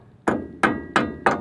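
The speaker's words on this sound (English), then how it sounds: "So I always use a hammer," A hammer strikes a brake part on a Dana 60 front axle disc brake assembly, four sharp metallic blows at a steady rhythm, close and loud with no talking.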